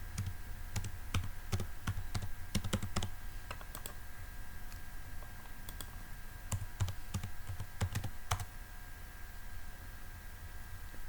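Typing an ID number and password on a computer keyboard: bursts of crisp key clicks at an uneven pace, close but fairly quiet over a steady background hiss.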